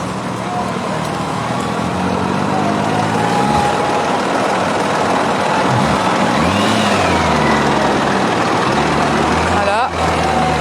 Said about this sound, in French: Donc là, il y a le premier tracteur.